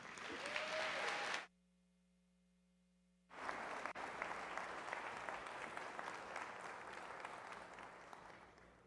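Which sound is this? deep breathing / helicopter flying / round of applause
round of applause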